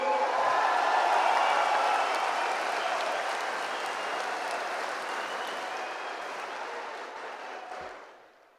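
Crowd applause fills a hall at a TVK political meeting of polling booth agents, a dense steady clapping that holds for several seconds before tapering off at the end.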